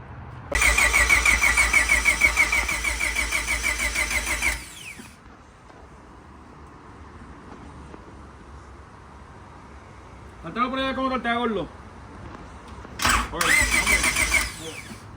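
A flooded car engine cranks loudly and steadily for about four seconds, falls quiet while a person speaks, then cranks again in a short, strong burst near the end.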